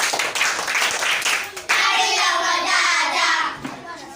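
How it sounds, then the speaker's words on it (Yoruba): Schoolchildren clap for themselves in a brisk, continuous burst of many small hands, loud and close, with voices mixed in through the applause. "Ẹ ṣeun gan, ẹ pàtẹ́wọ́ fúnra yín."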